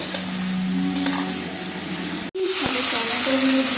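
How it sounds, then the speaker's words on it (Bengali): Sliced onions fry for biryani beresta, giving a steady close sizzle and crackle in hot oil, briefly cut by a sharp knock near the middle before the frying hiss returns. "তারপর এই বেরেস্তার জন্য পেঁয়াজগুলো ভেজে দিচ্ছি।"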